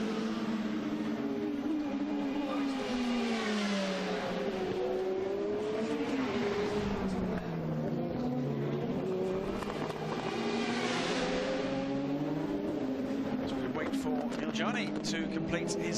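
Endurance race cars, including Audi prototypes, lapping in qualifying at the WEC São Paulo circuit, engines droning and shifting pitch as cars pass, under continuous commentary from a race announcer.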